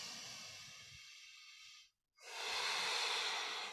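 Two long, close breaths during a yoga practice, a steady hissing airflow broken by a brief pause before the next strong, sustained breath, with no talking.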